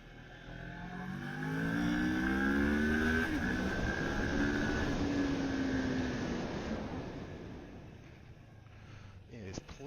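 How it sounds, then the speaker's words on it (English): A Moto Morini Seiemmezzo STR learner motorcycle engine revs up through the gears while riding, its rising tone swelling loud for several seconds before easing off, with wind noise blended in. "Yeah, there's plenty of poke in that engine."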